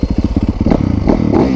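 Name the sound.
motorcycle engine revving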